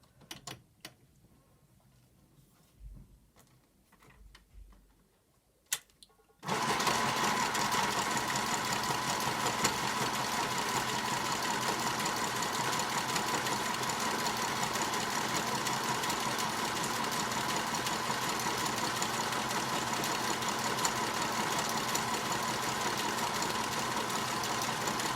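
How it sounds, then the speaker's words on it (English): A sewing machine runs a continuous zigzag stitch down a fabric edge for a tag, starting after a few seconds of quiet handling and then buzzing steadily and loudly without pause. "I'm going to run a zigzag stitch down just this edge"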